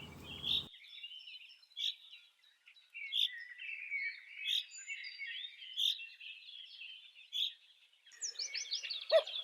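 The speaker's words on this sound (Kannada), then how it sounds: "ಕೋಗಿಲೆ" A koel, a kind of cuckoo, sings in a string of bright, repeated calls against a quiet background, with a short low rumble at the start and a cluster of other birds' chirps near the end.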